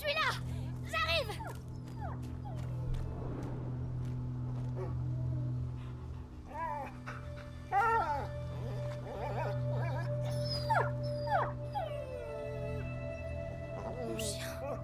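Dog whimpering and yelping in the video game A Plague Tale: Innocence, short whines scattered over a steady low game hum, with speech in French alongside.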